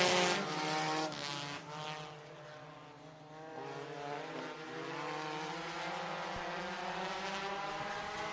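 Open 4-cylinder race cars at Sunset Speedway: a pack of engines droning and whining together, heard from a distance as they roar around the oval, steady and continuous with no talk.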